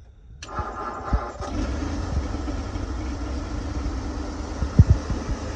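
A 1937 Ford Deluxe with cleaned plugs, points and carburetor cranks and fires up close, then settles into a steady, uneven idle with a few sharp pops near the end.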